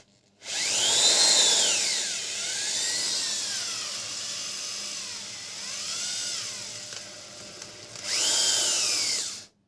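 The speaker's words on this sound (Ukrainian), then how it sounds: "Або можна просто сверлом, свердлом." A power drill whines steadily for several seconds, its pitch sagging and rising as it bites into material, then surges again briefly before stopping.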